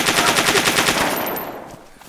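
Rapid automatic gunfire in the survival game DayZ, a fast steady burst of close shots that cuts off and trails away after about a second and a half.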